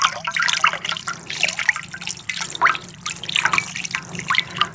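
Water poured over fish being washed for a village-style fish fry, a steady splashing trickle with dripping and small gushes, close and continuous without speech.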